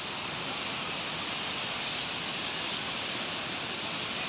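Manche Guru waterfall pours in a loud, steady, hissing roar of cascading water that stays close and even from start to finish, alone without talk.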